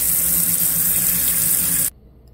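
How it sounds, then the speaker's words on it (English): Cold tap water runs steadily over pork ribs in a kitchen sink, a loud continuous splashing rush that stops abruptly near the end, with no talking. "I use cold water and I wash the ribs with the cold water."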